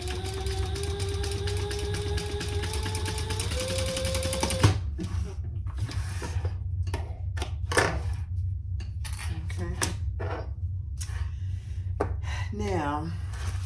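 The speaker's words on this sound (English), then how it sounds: "then we're gonna baste that in place" Sewing machine basting a sling bag strap and slide adjuster into place, a steady mechanical whir for the first few seconds that stops abruptly, followed by scattered clicks and handling clatter over a low hum.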